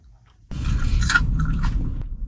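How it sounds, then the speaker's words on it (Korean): Crunchy food chewed close to the mic, with steady crisp crunches and a few sharper bites over roughly two seconds; no talking. "바삭바삭 소리. 진짜 바삭바삭하다."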